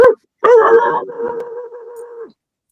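A large dog close by lets out a short yip and then a longer wavering whimper that trails off into a whine, with no talk over it.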